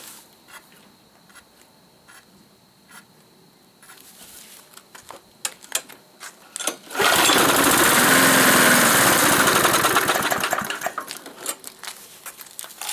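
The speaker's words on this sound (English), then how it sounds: "So we go ahead and we start the lawnmower. It runs for a couple seconds and then it dies." A petrol lawn mower with a faulty carburetor diaphragm, after some clicking and handling, roars loudly to life and runs for a few seconds before sputtering and dying away.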